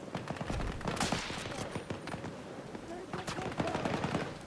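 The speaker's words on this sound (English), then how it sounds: "Oh, hey, they're already shooting." Dense rapid gunfire from Battlefield 2042 Hazard Zone, continuous automatic bursts and scattered shots at steady loudness throughout, with faint game voices underneath.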